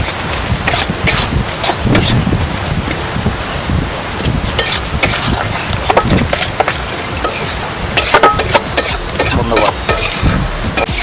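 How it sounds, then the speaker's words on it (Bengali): Spices and chili powder being stirred and scraped in a hot oily pan for chana masala, with steady sizzling and irregular scraping strokes close to the microphone throughout. "আর একটু লঙ্কার গুঁড়ো এবার ভালো করে নেড়ে নেবো আমরা এটাকে"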